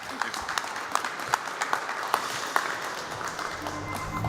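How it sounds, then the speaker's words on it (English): A summit audience in Tallinn applauds a panel, dense steady clapping with distinct sharp claps standing out and a faint voice emerging near the end. "please put your hands together for a round of applause for Hasim, Konrad, and Peep"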